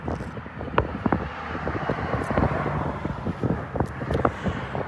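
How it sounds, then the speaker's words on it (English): Gusty outdoor wind buffets the microphone in a continuous rumbling roar, with rough bursts rising and falling throughout and no voices. "it's a little windy"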